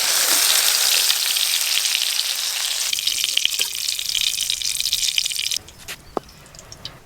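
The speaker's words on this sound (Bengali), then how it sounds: "কাঁচা টমেটোগুলো ভাজছি, দেখুন টমেটোর গাগুলো একটু ফেটে ফেটে যাচ্ছে।" Raw green tomatoes fry in hot oil in a village-style kitchen, giving a steady, close sizzle and hiss that drops quieter near the end, with a few faint drips and pops.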